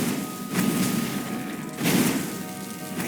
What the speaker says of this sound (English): A cannon trap.